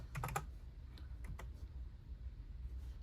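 Quick burst of computer keyboard typing, several rapid clicks clustered at the start with a couple of scattered keystrokes later, close and fairly faint over low background hum.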